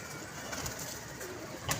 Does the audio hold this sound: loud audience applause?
no